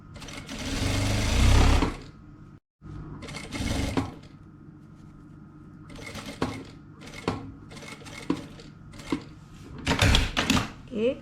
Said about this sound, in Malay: kita jahit sampai habislah, sampai temu sini balik